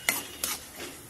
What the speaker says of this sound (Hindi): हल्का ब्राउन होने तक दाल को हमें पकाना है